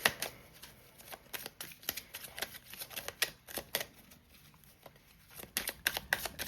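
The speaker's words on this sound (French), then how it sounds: "je prends quelques cartes du tarot" Tarot cards shuffled by hand in a quiet room, a rapid series of crisp riffling flutters and soft taps in irregular bursts, close and fairly faint, with no voice.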